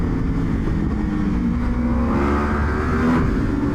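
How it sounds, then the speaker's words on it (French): A Yamaha R1 crossplane sportbike pulls hard under steady acceleration, its engine a continuous loud drone with rising pitch toward the end, heard from on board against rushing wind. "Oh là là, l'accélération, le couple du crossplane, c'est quelque chose d'incroyable ça."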